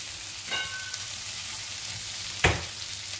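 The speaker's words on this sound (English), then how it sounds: "let's keep on sauteing." Stuffed brinjal sautés in a pan, a steady close sizzle of frying oil with two brief scraping clatters as the pieces are stirred.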